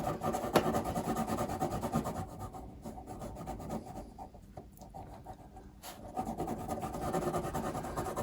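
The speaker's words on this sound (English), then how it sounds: "if you have a problem with the sound of the pencil on the paper" Watercolour pencil rubbing and scratching across paper in steady close strokes, a continuous dry rasp that eases off in the middle before resuming, with no talking.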